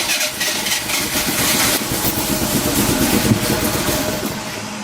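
A Merkur XR4Ti project car with a bad fuel pump starts and runs, its engine giving a steady, loud, rough idle rumble throughout, close by and with no talking.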